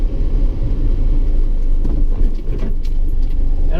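A 1958 DKW F93 out on a morning drive, its engine and road noise forming a continuous low rumbling drone heard from inside the car, fairly loud and steady with slight swells.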